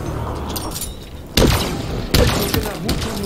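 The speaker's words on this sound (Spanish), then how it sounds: "Exquisita explosión." Two sharp, booming explosions in Halo Infinite burst out over a low background hum, each hitting hard and then trailing off with a crackling decay.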